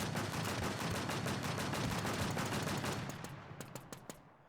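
Rapid continuous gunfire in the video game Infest Fantasy, a dense sustained burst that thins into a few separate sharp shots near the end, with no talking.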